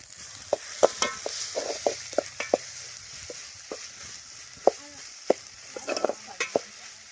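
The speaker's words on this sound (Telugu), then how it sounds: "మొత్తం అయితే బాగా ఫ్రై చేసుకున్నామండి కరివేపాకు అయితే రెండు రెమ్మలు అయితే వేసేసుకున్నామండి" Onions, tomatoes and curry leaves fry with masala for a korameenu fish biryani, a soft background sizzle broken by sharp, irregular spatula taps and scrapes against the pan.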